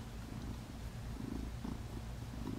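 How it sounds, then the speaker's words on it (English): A cat purrs close up, a soft, steady low rumble with a regular rhythm, quiet and alone. "Isn't he a pretty kitty?"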